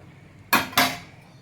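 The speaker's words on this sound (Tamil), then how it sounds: "மூடி போட்டு வைக்கிறேன்" Two quick metallic clanks, close and fairly loud, as a lid is set down on a pot of simmering Tamil vatha kuzhambu, then quiet.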